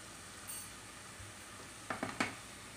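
Dal makhani tempering (tadka) sizzling in a pan, a low, steady fry hiss with a few short clinks and stirring scrapes near the end, close and fairly quiet, no talking.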